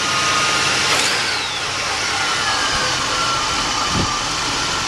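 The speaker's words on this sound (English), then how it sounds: "The fast idle didn't stay on too long because it's fairly warm out, and just let it sit there and idle" A 1979 Hurst Olds V8 idles steadily at warm temperature after its fast idle has dropped, a constant close engine drone with a faint whine and a few soft clicks, no talk.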